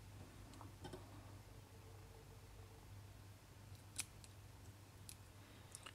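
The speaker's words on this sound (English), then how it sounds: "I now go in and cut off some of these hackles" Small scissors trim the hackles off a Lunn's Particular fishing fly, giving sparse, faint snips and ticks close by against a quiet, steady hum.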